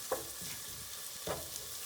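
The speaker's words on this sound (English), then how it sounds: "frying the onions" Onions frying in a pan for chicken paprikash, with a steady soft sizzle throughout and a couple of brief stirring scrapes, close and moderately quiet with no talking.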